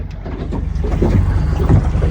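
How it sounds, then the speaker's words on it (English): An old small boat fitted with a 75 outboard motor idles after launch, giving a steady, close, rumbling low engine drone that rises slightly in level over a couple of seconds, with no talk. "Curious to see how a 75 pushes this old little boat."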